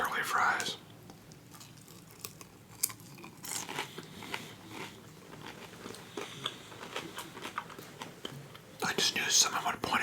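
Arby's curly fries being chewed close to the microphone, soft irregular crunches and mouth sounds between quiet whispered talk, with louder bursts of crunching near the start and end.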